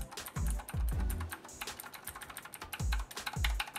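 Someone types on an EGA Type K3 gaming keyboard with clicky Outemu Blue switches, producing quick, crisp close-up clacks in uneven bursts, with no voice over them.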